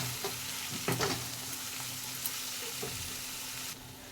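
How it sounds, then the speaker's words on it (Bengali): Ginger-garlic paste fries in a pan with onions, a steady close sizzle broken by a few scraping stirs of a spoon, with no talking. "1 চামচ আদা রসুন বাটা দিয়ে দেব। দিয়ে ভালো করে ভেজে নেব।"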